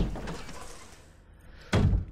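A door slams shut in Resident Evil HD Remake, a single loud, heavy thud near the end after quieter room ambience.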